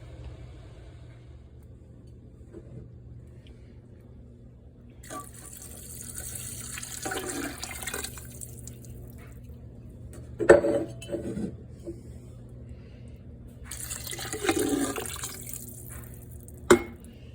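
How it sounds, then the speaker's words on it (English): Water runs and splashes from a tap into a Tfal 22 quart pressure canner, with quiet stretches and bursts of pouring, a few sharp clanks of metal, and a low steady hum underneath. "I put in the minimum required amount of water in the bottom and a splash of white vinegar in the bottom tray"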